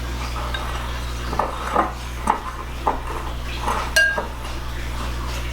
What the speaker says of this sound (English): I'm going to give this a nice little whisk here to get out any clumps that may be in there.